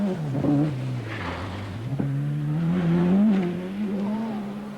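Juha Kankkunen's rally car slides through a stage of the 1985 Lombard RAC Rally, its engine revving hard with pitch rising and falling as the power is balanced, and a sharp click partway through.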